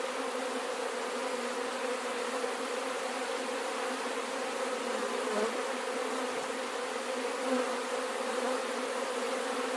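Honey bees buzzing over an open hive during an inspection, a dense, steady hum that stays close and even with no pauses.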